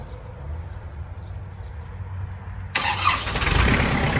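A Kubota tractor engine starts abruptly partway through, jumping from quiet ambient noise into a loud, steady running rumble close by.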